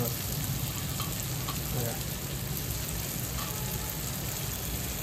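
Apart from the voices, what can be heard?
chili powder frying in a pan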